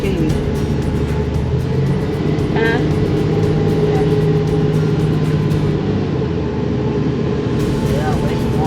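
A Freightliner Ironhorse truck towing a motorhome cruises along with traffic, its steady engine and road rumble holding close and continuous, with a person talking over it.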